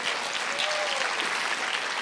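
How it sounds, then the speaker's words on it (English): Brief applause from an audience at a talk, a dense continuous patter of clapping at moderate level, with a faint voice briefly heard. "I think I deserve another round of applause"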